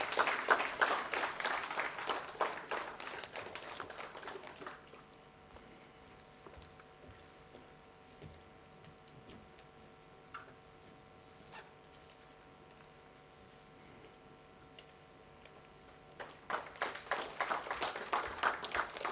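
Audience at a science festival prize-giving in Goa applauds an award winner: dense clapping for about five seconds fades into a long, quiet hum, then a fresh burst of applause rises at the end.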